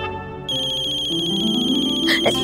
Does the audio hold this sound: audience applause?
no